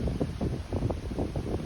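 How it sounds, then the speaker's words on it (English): Gusty wind buffets the microphone on an exposed Appalachian Trail overlook above the Susquehanna River valley in Pennsylvania, a loud, uneven rumble swelling and dropping in quick pulses with nothing else heard. "but it sure is windy"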